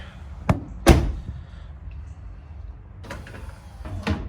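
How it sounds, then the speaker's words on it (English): A couple of sharp door thuds close by, one solid slam, followed later by softer clunks and rattles of a 2018 Ram pickup truck door. "So you shut the door."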